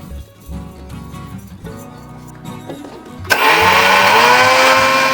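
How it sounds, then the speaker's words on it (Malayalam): A mixer grinder's small jar powders flattened rice, starting abruptly after a quieter stretch of low hum and bursting into a loud, continuous high-pitched whirring roar that runs to the end. "അപ്പം ഞാൻ അങ്ങനെ അവിൽ നന്നായി പൊടിച്ചെടുത്തു."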